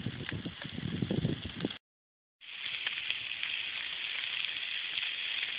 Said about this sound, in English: Check out the sizzling action.